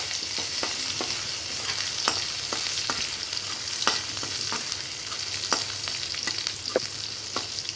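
Crushed garlic sizzling steadily in hot oil for a mutton dish, a constant loud frying hiss broken by sharp clicks and scrapes of stirring, with no talk.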